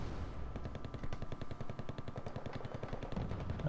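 Marines open up with rapid automatic gunfire in a real-time strategy war game, bursts stuttering steadily over a low rumble of distant battle for the full stretch, with no talking.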